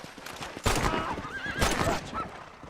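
A horse in Red Dead Redemption neighs, a loud close whinny in two bursts, with hoof clip-clop underneath.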